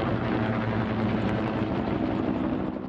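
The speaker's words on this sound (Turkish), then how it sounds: "Türk savaş uçakları Van'ın Gevaş ilçesinde eylem hazırlığında olduğu tespit edilen terörist grubunu vurmak üzere havalandı" Turkish military warplanes taking off on a strike mission, a steady loud roaring engine drone filling the whole clip, then easing slightly at the end, with no voices.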